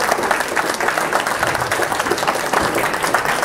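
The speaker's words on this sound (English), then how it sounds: "Let's give a round of applause." Audience applause closing a Catholic talk on Humanae Vitae and Pope Paul VI, a full, sustained round of clapping from a sizable crowd, steady and even throughout with no speech over it.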